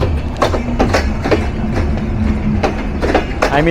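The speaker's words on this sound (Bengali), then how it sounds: "30টা রয়েছে বগি, 15টা রয়েছে কোচ।" A train of about 30 bogies and 15 coaches with two power cars rolls past in Bangladesh near Natore, wheels beating a steady, close clickety-clack over rail joints with a constant rumble underneath.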